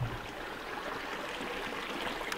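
A natural water source in the Algerian Sahara desert flows and trickles steadily. The sound is soft and continuous, close by, and no one speaks.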